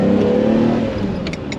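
A Ferrari Testarossa engine revs loud and close in Monaco, a deep smooth roar that rises in pitch and then settles, heard alone without talk.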